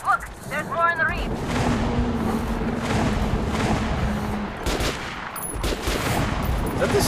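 Gunfire in the video game Metro Last Light: loud bursts of shots over a rumbling, noisy background, with a voice speaking briefly at the start.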